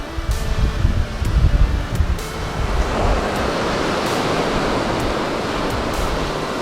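Surf washing onto a beach on the island of Culebra, a steady broadband wash of waves with heavier rumbling surges early on that settle into an even, continuous roar, with no one talking.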